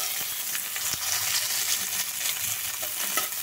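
Tomatoes and torn green chillies fry in hot oil with a steady, close hiss and crackle, broken by a few soft clicks of a stirring spoon.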